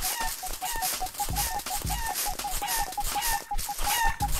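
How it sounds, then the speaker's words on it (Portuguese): Repeated clucking of a chicken in the video game Super Egg Hunt, sharp rhythmic bursts coming steadily one after another, loud and close, with no speech over them. "Quando esse barulho, você tem que fugir desse frango, senão ele se pica."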